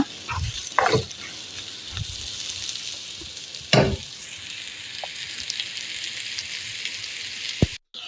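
Sliced bitter gourd fries in a pan with a constant crackling sizzle, broken by a few louder spatula scrapes and stirs up close.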